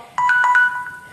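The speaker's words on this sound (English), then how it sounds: "my phone's ringing in the background" A phone rings in the background indoors, its electronic ringtone chirping in a quick pattern of bright repeated tones, moderately loud with no talk over it.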